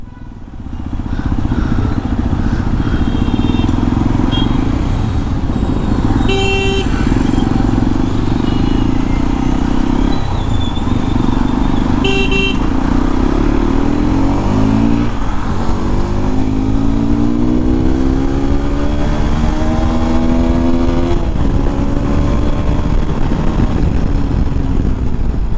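A Hero XPulse 210 motorcycle engine hums steadily while riding, then climbs in pitch as it accelerates hard in the second half, with occasional sharp clatters over the loud, continuous drone.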